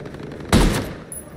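A sharp gunshot burst rings out in a multiplayer shooter video game with a helicopter in play, a single loud crack decaying over a faint background.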